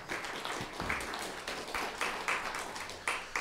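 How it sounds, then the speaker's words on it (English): Scattered applause from a small audience at an interview event at St. John's Institute, soft and fairly distant, with irregular claps and faint murmuring. "we should give them a round of applause"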